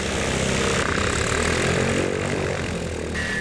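A small propeller airplane at Gransden Airfield gives a loud, continuous engine and propeller drone that holds steady throughout.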